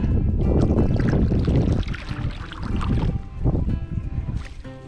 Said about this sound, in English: We got some wind today